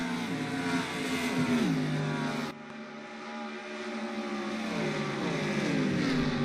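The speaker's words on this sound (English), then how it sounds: "Down the backstretch for the final time as the crowd cheers on for Little E." Race cars roaring down the backstretch in a racing video game, a loud, sustained engine drone with shifting revving pitch and a brief dip in level partway through.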